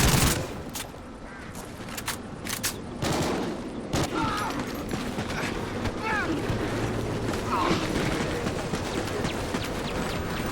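Call of Duty Ghosts video game combat has rapid bursts of gunfire cracking out, with sharp shots early on and then sustained fire and mechanical clatter. Radio-style voices talk over the action.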